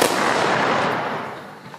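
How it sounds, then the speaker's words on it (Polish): An honorary gun salute volley fired at a ceremony for the 80th anniversary of the outbreak of World War II, one loud close sharp blast with a long rumbling outdoor echo fading away. "Dla uczczenia 80. rocznicy wybuchu II wojny światowej została oddana salwa honorowa."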